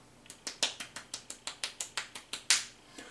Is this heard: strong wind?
no